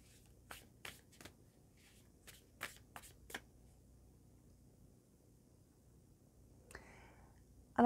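Tarot cards are shuffled and handled close up in a quiet room. A series of soft, quick riffle-like snaps comes near the start, then a pause, with a faint rustle and a louder sound at the very end.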